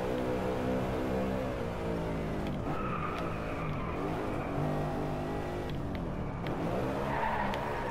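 A BMW M3 GTS racing in the game Drive Gear, its engine droning steadily as pitch rises and falls under hard braking, with tyres squealing and skidding in a few brief bursts.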